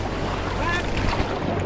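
Rapids on the Budhi Gandaki river rush and roar during a rafting trip, a loud continuous wash of churning water with wind buffeting the microphone.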